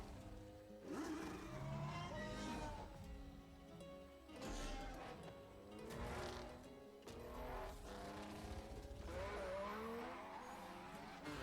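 Racing engines from a Forza Horizon 5 trailer featuring the Mercedes-AMG One and 2021 Ford Bronco Badlands, faint and distant, with rising revs, passing cars and tire squeals layered continuously.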